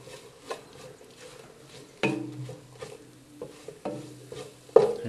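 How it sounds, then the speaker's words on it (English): Flour being stirred into olive oil in a pot for beef and cabbage soup, heard as soft scraping stirs with a few sharper utensil knocks against the pot, close and moderately quiet, no talk. "I'm just stir for like a minute or two until everything combined."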